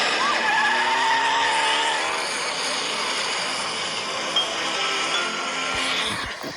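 A cartoon car drifts around a hairpin bend with a long, loud tire skid and an engine roar that last the whole stretch, under a steady wash of noise.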